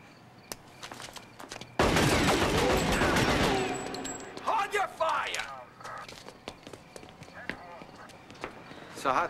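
A burst of loud gunfire in a crime drama scene, rapid shots packed into about two seconds, followed by clattering, footsteps and voices talking over the aftermath.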